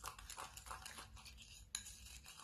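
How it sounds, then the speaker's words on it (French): Spoon stirring a homemade face mask mixture in a small bowl, soft repeated scraping strokes with light clinks of utensil against the dish and one sharper tap, close and quiet, with no talk. "Donc je mélange."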